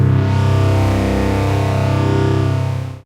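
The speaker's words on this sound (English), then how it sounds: "Load Baby Got Beef and play a chord." A Native Instruments FM8 synth chord on the Baby Got Beef preset rings out thick and distorted, heavy in the low end with buzzing harmonics. It holds steady at full volume for about three seconds and then cuts off.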